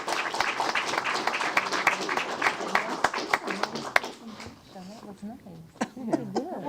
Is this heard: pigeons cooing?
no